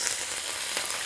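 Garlic cloves and dried red chillies frying in hot oil for a Nellore-style pappu pulusu, a steady close hiss of sizzling with faint crackles and no voices.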